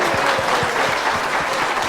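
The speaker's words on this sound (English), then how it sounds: "will you please welcome with a big round of applause" Loud, sustained audience applause welcoming a guest onto a stage, many hands clapping together in a full, even roar with faint low thumps underneath.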